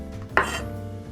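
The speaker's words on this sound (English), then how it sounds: "2 garlic cloves we're just gonna slice" A knife slices through garlic cloves on a board while making gazpacho, giving one sharp, close cut followed by a soft scrape, with no talking.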